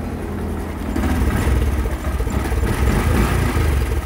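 A Japanese-made motorcycle engine idles close by with a steady, low running rumble that grows a little louder after the first second and stays constant.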